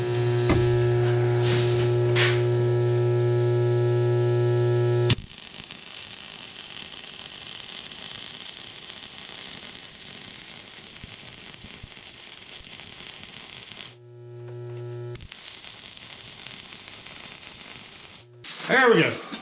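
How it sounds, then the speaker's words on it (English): MIG welding on the back side of a steel angle bracket clamped to a table, a steady crackling sizzle with an electrical hum that runs continuously, breaks off briefly and then resumes. "We got that MIG welded"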